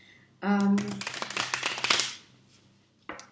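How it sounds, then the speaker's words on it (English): A short burst of tarot cards riffling and snapping together, briefly preceded by a tonal hum, then quiet with a faint tap at the end. "I will speak intuitively while I shuffle the cards"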